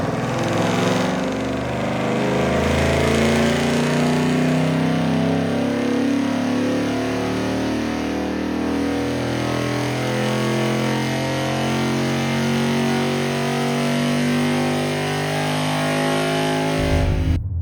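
A cherry red Ford Mustang 5.0 runs hard on a chassis dyno at a dyno day, its loud, sustained engine roar climbing steadily in pitch through a long pull before cutting off at the end.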